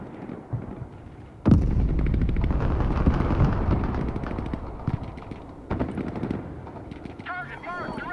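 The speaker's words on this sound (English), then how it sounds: "MLRS ready to fire." MLRS rocket artillery fires in the video game Broken Arrow, a sudden loud roaring launch that sustains for several seconds, then another blast, with game sounds and a voice in the background.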